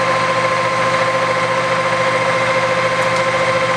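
A Cincinnati No. 12 plain milling machine with a 40 taper spindle runs steadily, a loud continuous mechanical hum with a constant tonal whine and no talking.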